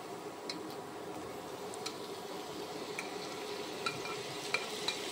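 Carrots, onions and cucumbers fry in a pan with a steady soft sizzle and occasional small ticks and scrapes from stirring, close and fairly quiet, with no talk.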